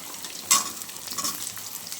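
Cut potatoes go into a hot pan of oil with black cumin seeds, onion and green chilli, setting off a sudden loud sizzle that settles into a steady frying hiss.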